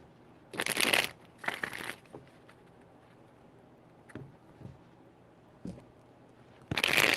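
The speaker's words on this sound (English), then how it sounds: "3 shuffles." Tarot deck shuffled in a reading, a few separate loud riffling bursts with quiet gaps and soft handling taps between them, near and with no talking.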